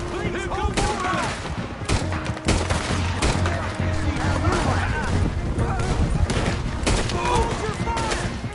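Gunfight in Red Dead Redemption 2, dense overlapping gunshots cracking almost continuously, with shouting voices mixed into the barrage.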